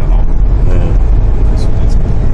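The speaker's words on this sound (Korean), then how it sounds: "시동 거면서" A 2009 Kia Grand Carnival engine starts and idles up close, a loud low rumbling drone that dominates the short stretch, with a faint voice in the background.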